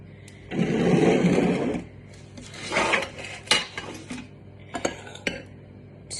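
A spoon scoops fluffy cloud bread mixture onto a baking tray, making a sustained scraping swish and then several close clinks and taps of metal against the tray and bowl.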